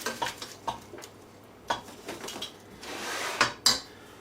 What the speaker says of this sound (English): I'm going to cut up my bacon